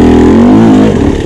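A dirt bike engine revs hard and steady while climbing off-road with the rear tire in traction during a King of the Motos race, the loud close note rising then wavering and roughening near the end.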